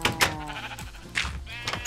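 Minecraft sheep bleat in the video game, giving several short, wavering cries in separate bursts close by. No speech is heard.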